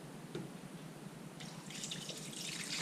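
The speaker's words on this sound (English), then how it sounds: "let's go ahead and pour the full amount of the 12 cups into the water well." Twelve cups of water pour into the reservoir of a drip coffeemaker, a soft trickle that grows into a louder, hissing splash partway through, close and without speech.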